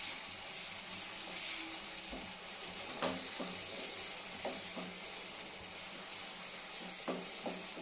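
Tomato, capsicum and onion sizzle softly in a home kitchen pan, a quiet steady frying hiss broken by occasional scrapes and clicks of stirring.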